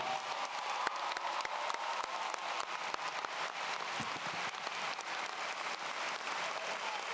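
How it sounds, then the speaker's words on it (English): A graduation audience at a Monacan High School ceremony claps for the Monacan singers, a dense, even wash of applause with a few sharper individual claps standing out, heard without talk. "if we could have another round of applause for the Monacan singers"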